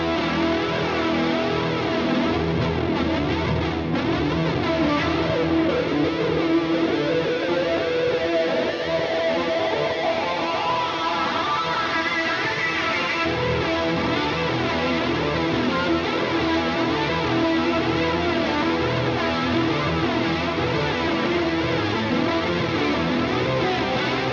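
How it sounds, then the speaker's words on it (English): An electric guitar runs through fuzz, octave, heavy reverb, delay and wah effects, producing a loud, dense, synth-like wash of sustained distorted tones with sweeping, echoing texture throughout. "This is fuzz, octave, super reverb and super delay, and the wah-wah"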